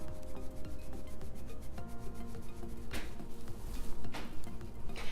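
A built-in eraser rubs back and forth over erasable highlighter ink on planner paper, giving close, dry scrubbing strokes in an irregular rhythm with a few sharper swipes near the end.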